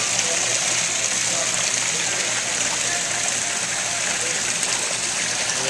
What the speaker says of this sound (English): You know how I love any kind of waterfall.